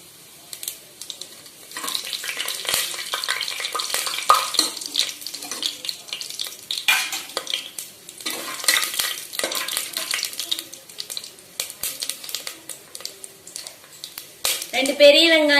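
Cloves, fennel seeds and cinnamon sauté in hot oil for mushroom biryani, giving an uneven crackling sizzle with bursts of stirring and clatter. A voice talks over parts of it, and a splash of water sounds near the end.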